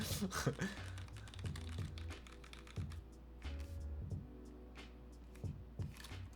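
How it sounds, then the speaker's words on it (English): Rapid mechanical keystrokes on a Noxary 378 keyboard with very stiff leaf springs, typed in an uneven burst of sharp, close clacks with low thock accents, alone with no talk. "we are doing the the leaf typing test here"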